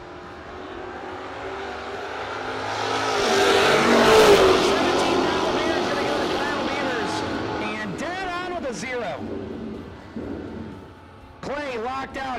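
Drag race cars, a Dart and a Mustang, launch at a no-box drag event, their loud engine roar swelling to a peak and fading as a commentator speaks over the later part.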